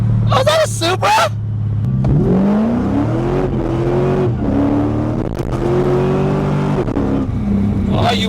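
A Toyota Supra engine revving, rising and falling drones climbing in pitch several times, loud and near, with people talking excitedly over it at the start and end.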